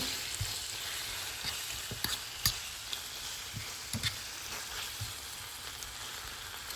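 Chicken drumsticks sprinkled with taco seasoning sizzle steadily in a frying pan while a utensil stirs them, giving scattered scraping clicks and soft knocks over a constant hiss.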